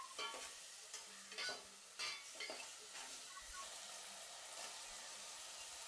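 Ginger-garlic paste and masala paste are stirred together in a pan, with soft sizzling and a few spatula scrapes at a low, fairly faint level.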